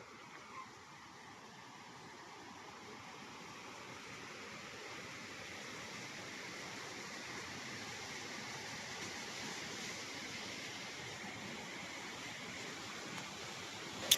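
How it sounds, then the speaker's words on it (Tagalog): A river flows on a farm lot with a soft, steady babble of running water that swells slightly over time. It stays faint and continuous, and no one speaks. "Yun, lagaslas po yun ng tubig."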